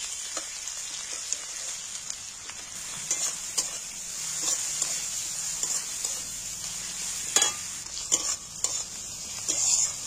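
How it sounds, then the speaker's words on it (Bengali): Garlic paste frying in a pan for an egg and cabbage dish, a steady soft sizzle with intermittent scraping stirs and a few light utensil taps, no voices. "রসুনটা আমার ভাজা হয়ে গেছে, কাঁচা গন্ধটা চলে গেছে।"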